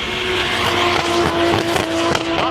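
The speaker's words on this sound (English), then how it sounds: "this is sick that you're drifting this" A Dodge Challenger drifts on old 14-inch tires, its engine revving hard and loud as the car slides, with a sustained roar and tire noise close by throughout.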